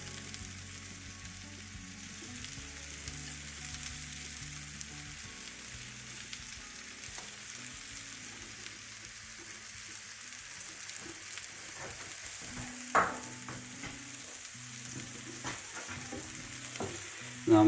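An egg and cabbage omelette fries in a pan with a soft, continuous sizzle, broken by occasional light clicks and scrapes from utensils.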